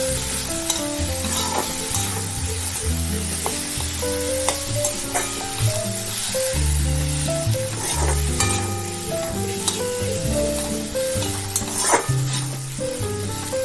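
Fish frying in a hot pan with garlic paste stirred in, giving a loud steady sizzle throughout, broken by scraping of a spatula and occasional clinks against the pan.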